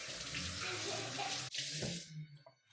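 Tap water runs from a kitchen faucet for a couple of seconds as hands are wetted before folding sourdough dough, a steady close splash that breaks off near the end.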